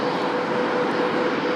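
An airliner on short final approach at Lisbon Airport, its engines a steady, broad roar that stays even and fairly close throughout the brief moment, with no talk over it.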